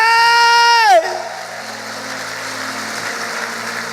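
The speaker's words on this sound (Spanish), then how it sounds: "Dale el aplauso fuerte al Rey." A sustained voice cuts off, and scattered clapping and crowd noise take over during a church service, continuing at a moderate level in a large room.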